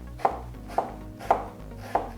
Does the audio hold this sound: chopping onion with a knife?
yes